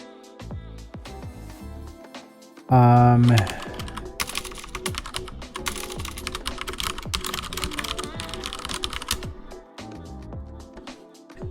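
Rapid clicking of a computer keyboard during a programming session goes on steadily for several seconds under a voice that talks, with a brief loud burst near the start.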